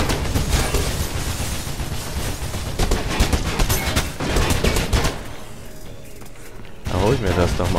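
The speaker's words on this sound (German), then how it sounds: "Die haben also ein Maschinengewehr." Loud, dense machine gun fire from enemy police in Mirror's Edge, rapid bursts rattling almost continuously over several seconds with a brief lull near the end before it resumes.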